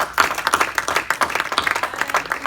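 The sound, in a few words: audience applause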